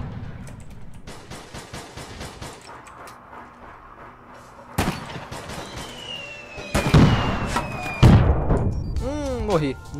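Game sounds from APB Reloaded with several sharp gunshot bursts and impacts over a rumbling background, ending in rising electronic tones.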